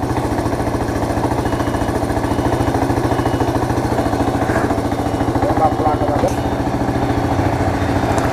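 Motorcycle engines idle and putter loudly and steadily nearby at a mototaxi course site, with a rapid rhythmic chug running throughout while people talk over the noise.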